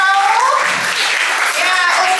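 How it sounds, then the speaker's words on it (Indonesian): Students at a vocational high school workshop clap together, a dense wash of applause across the whole stretch, with voices calling out over it. "Nih Bapak Ibu ya mendengarkan, tepuk tangan."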